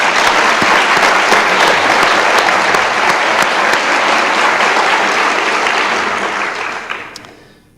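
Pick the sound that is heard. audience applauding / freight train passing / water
audience applauding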